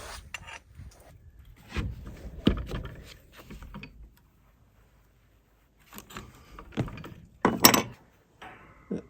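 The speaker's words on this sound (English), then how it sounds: "I have to bend the flange" A steel panel flange is bent in a vise in bursts of scraping, creaking metal and sharp clanks, separated by short pauses and ending with several louder knocks close by.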